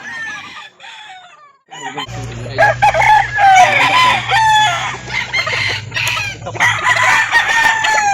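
Chickens cluck and roosters crow repeatedly at a chicken market in Calauan, Laguna, close and loud, overlapping calls of a busy flock with a low engine-like hum underneath.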